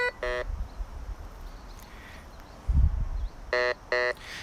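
Short electronic beeps from a metal detector come in a quick burst at the start and again in two spaced beeps near the end, over faint rustling.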